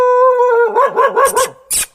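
Puppies that have fallen into a well whine in a high, wavering cry, a few short wobbling yelps in close succession, then a brief noisy burst at the end.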